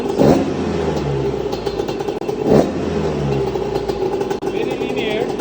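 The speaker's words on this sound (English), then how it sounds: "Let's see how the idle runs." A two-stroke engine with an air-adjusted carburetor runs steadily at idle after tuning, a continuous close engine drone with two brief blips in speed, while a person talks over it.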